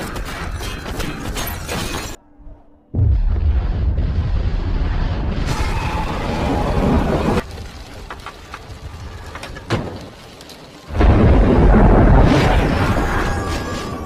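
Bomb blast in an action movie scene with a helicopter, loud booming, shattering debris and rumble in several bursts, a brief lull in between, then a final roaring burst.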